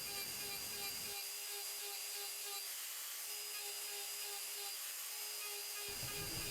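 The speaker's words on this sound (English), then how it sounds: "here I am starting the texture on the outside rim using a larger burr in a die" A die grinder fitted with a large burr textures the outside rim of a turned wooden ring, giving a steady high-pitched whine that runs unbroken and fairly faint, with a lower hum dropping out for most of the pass.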